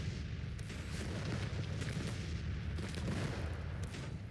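Twelve-pounder cannons fire across a Civil War battlefield in Grand Tactician: The Civil War, a steady rumble of distant booms and cracks with no voices.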